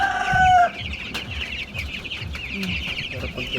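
Chickens cluck in short, repeated bursts nearby, with a brief higher rooster-like call at the start and faint background murmur of voices.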